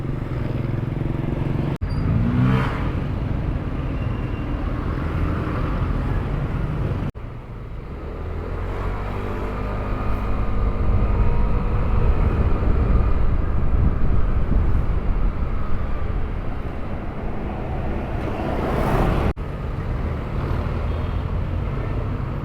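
A Samurai 155i V2 scooter-style motorcycle rides through road traffic in Binangonan, Rizal, with a continuous close engine drone and heavy wind and road rush, swelling and easing as it moves along.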